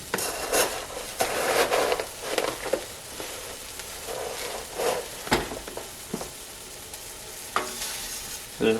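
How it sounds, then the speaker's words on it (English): Rice poured into a pot of boiling water is stirred, with repeated scraping and clinking of a spoon against the pot over a soft bubbling hiss, in a close, irregular rhythm. "as soon as we put the rice in, we'll stir it, turn off the heat, and then put a lid on it."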